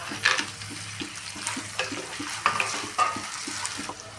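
Diced potatoes, carrots and cashews fry in a pan for upma biryani, a soft sizzle running under regular scraping and clinking as a utensil stirs them, with no talking.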